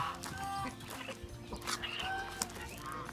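Farm chickens cluck and squawk close by in a quick, overlapping flurry of calls, with a hen's sharp cackles rising over a busy background of fowl noise.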